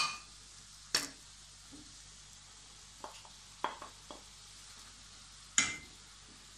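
Shrimp go into a pan and cook for a chicken and fish pastilla, with quiet sizzling and a few sharp clacks of a utensil against the pan, spaced irregularly.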